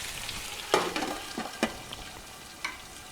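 Potatoes frying in a covered pan over high heat for home-fries bhujia give a soft steady sizzle, broken by a few sharp clatters of a lid or spoon, close and fairly quiet with no one talking.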